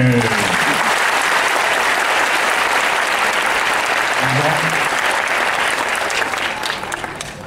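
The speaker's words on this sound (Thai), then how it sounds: "ยินดีปรบมือ" Dense, sustained clapping from an audience at a Thai donation ceremony for a hospital foundation, with faint voices briefly under it, gradually fading toward the end.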